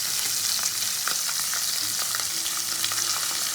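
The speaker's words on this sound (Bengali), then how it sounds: "মাছগুলো আমি এপিট ওপিট করে একটু ভেজে দেবো" Khoira fish fry in hot oil, a constant dense sizzling hiss close by with small scattered pops and no talking over it.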